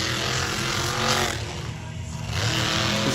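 Monster truck engine roaring during a donut in a freestyle run at an arena in Salinas, loud and continuous with a brief dip and swell of revving, crowd noise beneath.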